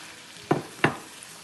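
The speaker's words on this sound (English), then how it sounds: "Slide shrimps into the pan." Shrimps slid into a hot pan with garlic, two quick sharp sizzling bursts over a faint background hiss.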